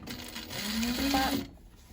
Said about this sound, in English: You then need to sew across the bottom, exactly the same.